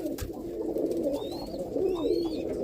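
Roller pigeons in a loft give soft, low cooing calls that run continuously and close by, with faint higher chirps and some rustling in the background.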